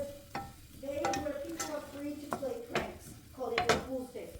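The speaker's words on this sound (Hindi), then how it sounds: "इसको हमने सौते कर लेना है।" Metal utensil clinks and scrapes against a pan as onion, garlic and chillies are sautéed in cooking oil, a few sharp taps over a faint background, with someone speaking softly.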